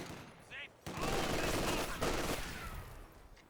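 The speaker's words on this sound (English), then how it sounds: "MG42 set on up, trying to engage the intersection" An MG42 machine gun fires in Company of Heroes 2, dense rapid bursts of gunfire that start abruptly after a brief quiet and sustain loudly with a second surge, with battle noise underneath.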